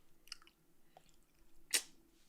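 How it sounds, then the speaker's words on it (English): Chewing close to a microphone: a few sharp, wet crunches and bites over a couple of seconds, with one loud crunch near the end against a quiet background. "You chewing on in the mic."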